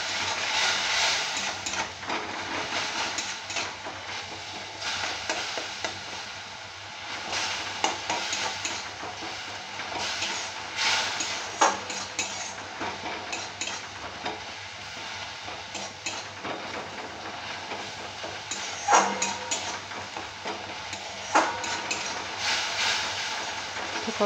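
Spiced paneer chop mixture being stir-fried in a pan: a steady, quiet sizzle with intermittent scraping and stirring clatter of a utensil against the pan, occasional sharper clinks.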